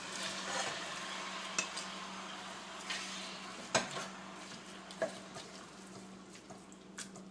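Meat sizzles steadily in hot oil for lomo saltado, a soft continuous frying hiss broken by a few sharp clicks of a utensil against the pan.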